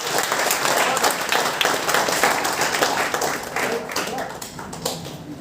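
An audience at a talk on Chandra Shekhar Azad breaks into applause, a dense clapping that swells early and then tapers toward the end, with a voice heard faintly beneath it.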